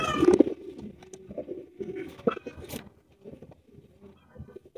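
Pigeons at a pigeon farm give a few soft, low coos close by, with a brief louder flutter or call at the start and quieter gaps between, no talking heard.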